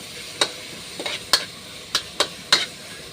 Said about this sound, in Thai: กระเทียมพริกเราลงไปเลยครับนี่ นี่นี่เลย คั่วกันเลยครับ